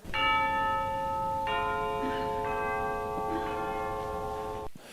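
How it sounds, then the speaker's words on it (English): School bells at Duluth Central High ringing out in a steady, sustained peal with long ringing tones that layer and overlap, fairly loud, then cut off abruptly near the end. "Central's last class of freshmen was honored with the final ringing of the school bells"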